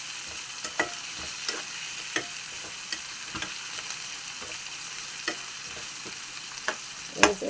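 Tomato and green chilli pieces fry in a pan for a brinjal curry, giving a steady soft sizzle with scattered stirring scrapes and a sharper clatter near the end; no voices.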